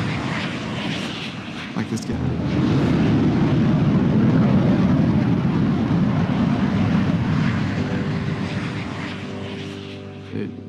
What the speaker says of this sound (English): and saw planes flying over.